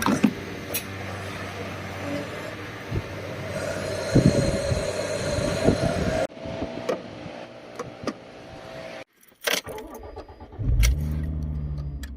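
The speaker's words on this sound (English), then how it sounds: "The car is making quite some noise. I think it's from the wheel bearings up front" A Fiat Stilo Abarth Michael Schumacher edition drives with noisy worn front wheel bearings, giving a rumbling, whirring road drone with squeals and clunks, then a quieter stretch and a brief cutout near the end.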